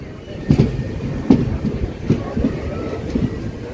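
A passenger train on an Indian railway line rumbles and clatters near a platform, its wheels giving a rhythmic clickety-clack over the rail joints under steady wind noise.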